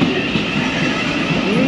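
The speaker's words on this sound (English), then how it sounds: "You can get a good view of the trains arriving and leaving Blackfriars mainline." A train rolls through Blackfriars mainline station over the Thames, a loud, continuous rumble of wheels and carriages with a faint rising squeal near the end, close by and steady with no voices.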